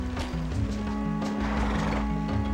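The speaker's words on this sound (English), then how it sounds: "This horse was used by the previous leader, born in battle." A horse in the PS1 game Breath of Fire IV neighs with a loud, shaky whinny, backed by clip-clop hoofbeats and a looping tonal game background.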